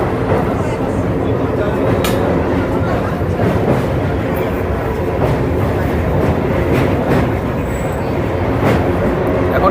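Local train moving out of Andul station toward Kolaghat, a steady loud rumble of wheels and carriage noise with faint intermittent clatter, continuous and close throughout.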